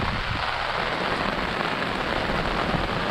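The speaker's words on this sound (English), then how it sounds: "But this is in the morning, and it's a continuous rain today" Steady, continuous morning rain pours down in a dense, even hiss of drops on surfaces, loud and close, with no voices.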